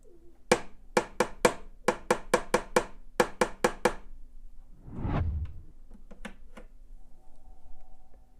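A pencil taps out a rhythm exercise: about thirteen sharp, dry clicks in short grouped phrases, close and crisp over quiet, followed by a soft rustle and a few faint ticks.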